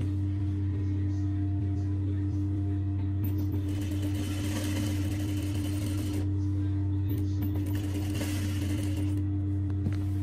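A sewing machine stitches the canvas of an Arabic kandura with a steady, close mechanical whir and hum running nonstop, its rapid needle rattle swelling louder in two stretches.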